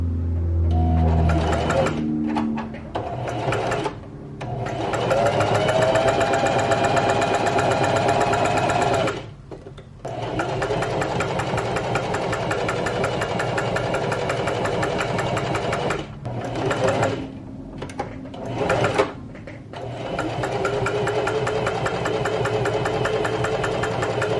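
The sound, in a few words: sewing machine stitching fabric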